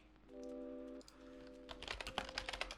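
Keys on a computer keyboard clatter in a quick burst of sharp clicks near the end, following a sustained electronic tone that breaks off briefly partway through.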